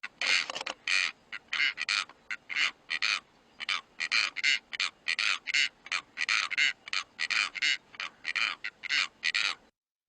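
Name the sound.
blue korhaan call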